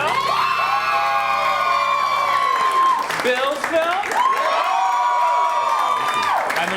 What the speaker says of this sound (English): So let's start that round of applause.